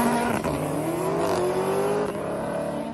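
A Ford GT supercar engine revs hard while the car drives past. Its rising, shifting tone is loud and close, with no one speaking.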